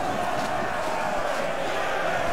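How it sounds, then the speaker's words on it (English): A Rome II battle crowd of soldiers roars and cheers in a continuous dense wash of voices surrounding a lone fighter. "Everyone's just cheering around him."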